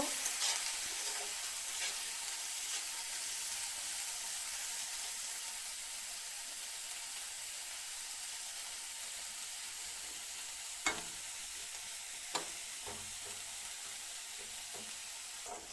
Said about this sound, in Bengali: পেঁয়াজ কুচি আর রসুন কুচি একসঙ্গে হালকা করে ভাজা করে নিলাম